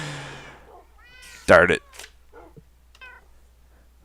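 Cats meowing in the Minecraft video game: a few short, fairly clear meows spread through the moment, with one loud burst near the middle and someone talking briefly over them.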